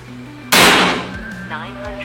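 A single sharp shot from a GK Mini Gen 3 PCP air rifle cracks loudly and close, followed by a brief ringing tail over a low background hum.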